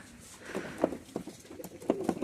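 Pigeons kept in a basket give soft, close coos and rustles, a few low murmuring calls scattered irregularly over quiet background noise.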